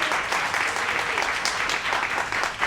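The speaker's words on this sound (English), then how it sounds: "Let's give them a brief round of applause." A brief round of applause from the audience at an ACT UP New York town hall on city HIV funding cuts, steady dense clapping from a crowd, even and continuous throughout.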